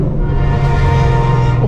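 Shelby GT500 engine revving hard through a tunnel, a loud, sustained low growl with a steady, dense roar echoing throughout, no voices.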